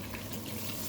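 A soft, continuous watery rush of water poured into a cooking pan of chicken adobo, brief and fairly faint.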